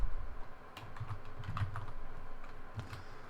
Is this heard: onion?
no